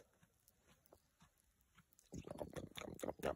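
A farm animal chews its cud with a soft, faint, repetitive grinding rhythm. After about two seconds the chewing grows much louder and closer, with bursts of crunching.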